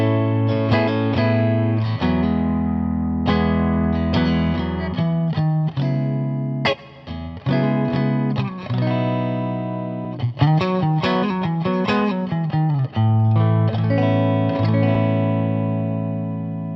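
A distorted electric guitar plays loud, continuous riffs and chords through an amplifier, sounding full and close in a room, with no voices.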